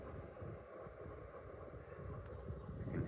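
A ceiling fan runs steadily at home, giving a soft, continuous whoosh of moving air with a low hum and no break.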